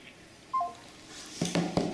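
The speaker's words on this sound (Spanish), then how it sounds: "Estás como llamando por teléfono, buscando números." A telephone number is dialed, a few short keypad tones sounding close and clear in quick succession after a brief chirp.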